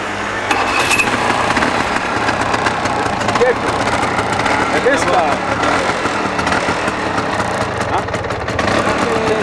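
A 125cc four-stroke scooter engine runs at a steady idle, a buzzing mid-pitched drone under people chatting nearby.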